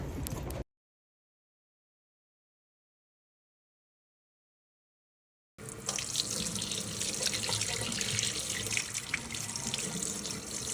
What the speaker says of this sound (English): Water coming out is very hot.